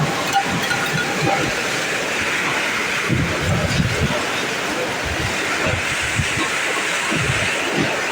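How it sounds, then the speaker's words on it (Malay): Hailstorm with rain and thunder in Chukai, Malaysia: a steady dense roar of falling hail and rain with wind buffeting the microphone, irregular low rumbles throughout, loud and continuous. "Hujan air batu dulu."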